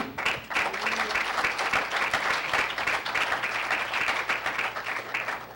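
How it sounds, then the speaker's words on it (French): A congregation at a church service bursts into applause, a brisk, crowded clatter of hands with sharp individual claps standing out, continuing steadily across the whole span. "Tu peux applaudir."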